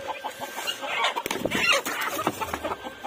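Hens and other chickens cluck in a flock at close range, with steady overlapping calls and scattered sharp squawks over a busy farmyard bed.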